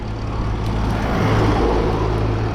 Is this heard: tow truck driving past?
yes